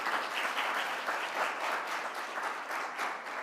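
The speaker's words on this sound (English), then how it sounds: "Another round of applause for her." Audience at the launch of Jamaica's national poverty index applauds after a presentation, a dense, even rush of many clapping hands heard from a moderate distance, sustained without a break.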